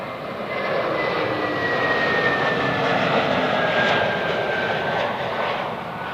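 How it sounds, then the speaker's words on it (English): An Airbus A380 takes off at Zurich Airport with a steady, powerful roar of jet engines and a thin whine above it, loud and sustained, swelling slightly before easing. "And takeoff for the A380."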